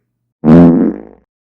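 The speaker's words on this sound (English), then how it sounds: "Here's a fart chicken." A cartoonish fart chicken sound effect: one loud, buzzy, tonal blat lasting under a second that trails off quickly, heard alone with no talking.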